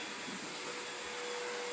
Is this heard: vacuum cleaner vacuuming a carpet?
yes